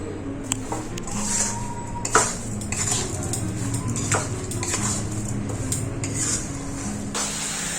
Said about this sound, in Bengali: এই বীজগুলোকে একটু গুঁড়ো করে দেবো